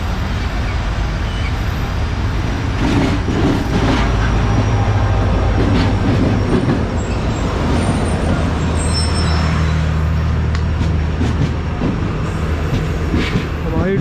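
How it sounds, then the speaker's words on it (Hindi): The Allama Iqbal Express passenger train rumbles and grinds loudly as it rolls in and slows to a halt, with a continuous heavy low roar, some squeal and faint background voices. "हमारी ट्रेन जो है अभी फाइनली आकर रुक चुकी है जुम्मा कोट पर"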